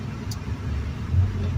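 Inside a 1991 Honda Civic LX sedan being driven with the windows closed and the blower motor on, a steady low engine and road rumble runs under a constant fan hiss, with a slight rise near the end.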